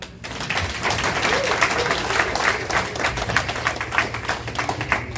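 An audience at a Ghanaian political rally in Worcester, Massachusetts claps in a loud, dense burst that carries on steadily for several seconds with sharp individual claps standing out and no speech over it.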